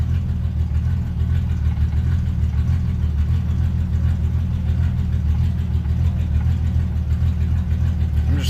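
A 1967 Triumph GT6 engine idling shortly after a cold start, a loud, steady, low rumbling drone that holds evenly throughout with no revving and no talking.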